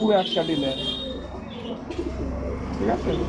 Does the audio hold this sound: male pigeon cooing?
yes